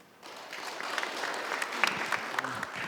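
An audience at a policy debate forum on the Daegu-Gyeongbuk new airport gives a burst of steady applause to welcome the panel discussants, the clapping starting abruptly and continuing evenly throughout.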